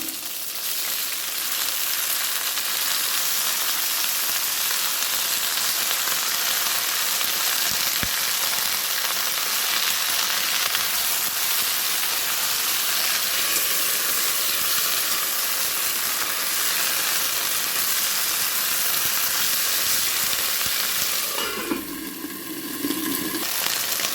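Curry leaves fry in a covered pan, giving a steady, close hiss and sizzle throughout, with a brief clatter near the end.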